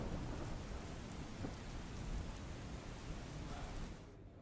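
Steady rain pours in Ahmedabad, a dense, even hiss of falling water and drops on surfaces that fades slightly near the end. No voices are heard.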